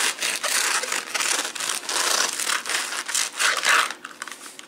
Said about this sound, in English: I am going to cut this one open just so you can see. And I'll just cut the end off.